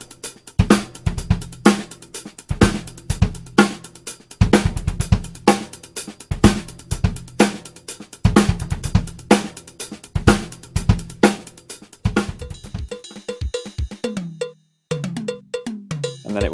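Drum kit plays a steady, punchy groove with kick, snare and hi-hat hits in a repeating pattern, ending in a busier fill.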